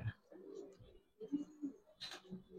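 Soft pigeon coos repeat in a low, throaty rhythm, close by and fairly quiet, with a brief flutter or rustle partway through.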